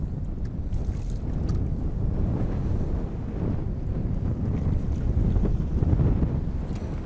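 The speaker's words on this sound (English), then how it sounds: "And talk about the wind kicking up" Strong wind buffets the microphone on an open fishing boat on the water, a constant low rumble with gusty surges throughout.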